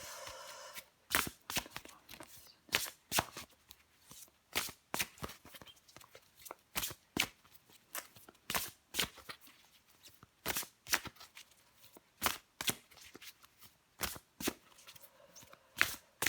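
A deck of tarot cards is shuffled by hand in a steady run of crisp riffling slaps and flicks, close and quiet, continuing without any talking.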